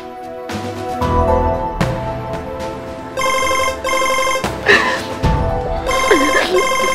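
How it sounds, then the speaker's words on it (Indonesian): Telephone bell ringing loudly and close in a domestic drama scene, bursts of repeated electronic trills with brief gaps and other clattering sounds. "Saya angkat telepon sebentar."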